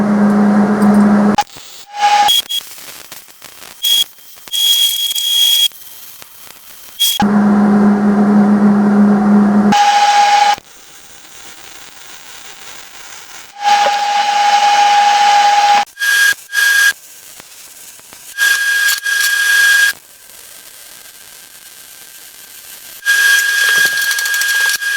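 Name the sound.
cutting metal pieces for a snowblower repair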